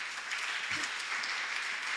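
A church congregation breaks into sustained applause and acclamation after a sermon, a dense, even wash of clapping filling the room from start to finish.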